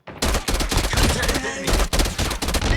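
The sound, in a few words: TEC-9 gunfire in burst mode in a video game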